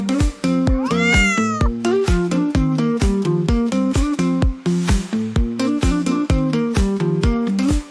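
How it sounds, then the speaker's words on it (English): A cat meows again and again, loud and close, the calls falling into a steady rhythm over a constant musical beat. "C is for cat."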